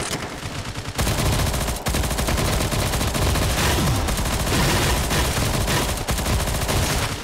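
Dense, loud automatic gunfire from the mobile shooter Alpha Ace, rapid rattling bursts running almost continuously with only brief pauses.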